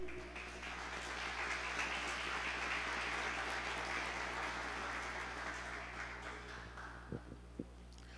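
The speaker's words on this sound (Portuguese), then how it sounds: "Você pode aplaudir a Jesus?" Steady applause from a church congregation, sustained clapping over a low hum, tapering slightly near the end.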